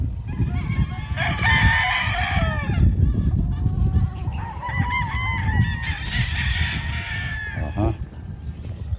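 Roosters crow repeatedly in a gamefowl farm's running pen for aged cocks in the Philippines, several loud, close calls overlapping against steady farm background noise.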